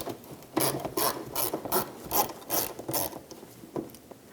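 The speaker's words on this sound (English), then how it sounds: "That's housing a 10mm screw, so let's remove that." Steady ratchet clicks backing out a 10mm bumper screw on a 2012-2017 Toyota Camry, a close, even rhythm of about a dozen rasping strokes.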